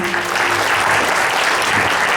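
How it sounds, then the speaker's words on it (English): An audience at the 2014 Miss New England pageant gives dense, loud, sustained applause for the reigning Classic Ms. New England, a continuous roar of many hands with no pauses. "let's give Deborah a big round of applause"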